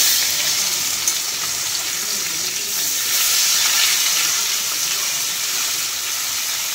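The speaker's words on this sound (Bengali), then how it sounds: "এখানে মাছ ভাজাভাজি চলছে, এখানে হচ্ছে ভাত ফুটছে।" Fish frying in a pan, with rice boiling nearby, makes a loud, continuous crackling hiss that stays even throughout without any voices.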